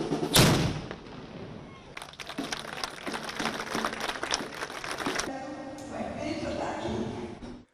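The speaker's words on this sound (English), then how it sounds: "a cannon was fired to remember the exact moment when Commander Chavez passed away" A ceremonial cannon fires once at a memorial tribute marking a leader's moment of death, a loud near blast followed by rumbling crowd noise and scattered crackling.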